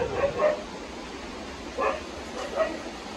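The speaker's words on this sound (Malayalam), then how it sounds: "അകത്തൊരു പട്ടിയുണ്ട്, ഞാൻ അങ്ങോട്ട് കയറി പോകുന്നില്ല." A dog gives a few short, faint barks and yips from inside a house, in two brief pairs of bursts separated by a quiet gap.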